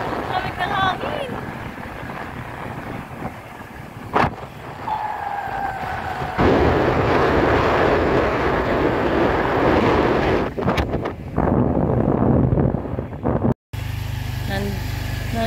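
Wind gusts buffet the microphone in a continuous loud roar by a river, with people talking now and then and a vehicle engine seemingly rumbling underneath.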